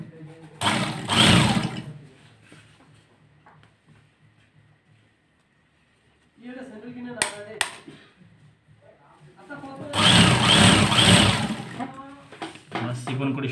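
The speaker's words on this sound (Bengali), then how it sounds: "চিকন করে সেলাই করব।" Sewing machine running in two loud bursts of fine stitching for narrow piping on a Kallidar Punjabi, separated by a quieter stretch of handling and brief clicks.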